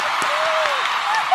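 Applause from a studio audience on a talk show, a dense, steady wash of clapping sustained throughout with voices mixed in underneath.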